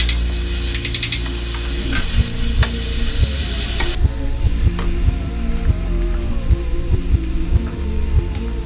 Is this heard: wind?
no